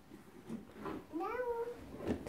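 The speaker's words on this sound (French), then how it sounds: "C'est un chat." A cat meows a few times, soft and close, with short rising and falling calls in a quiet room.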